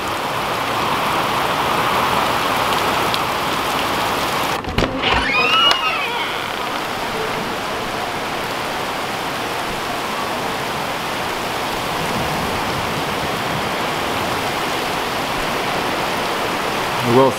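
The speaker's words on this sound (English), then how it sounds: "And now it's raining out." Steady rain falls outdoors, a broad even hiss throughout, with a brief clatter of handling noise near the start and no speech.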